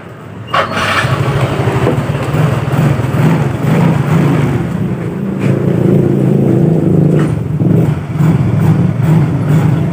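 A Yamaha Mio GT scooter engine starts and runs on test after CVT work, its steady buzzing drone rising and swelling in a couple of revs, close and loud, with no talking.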